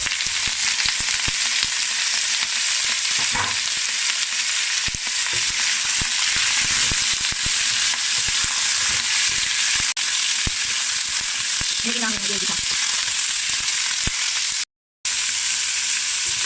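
Beef sizzling in a pan with ginger and red onion, a steady loud frying hiss running throughout with occasional stirring scrapes and small pops.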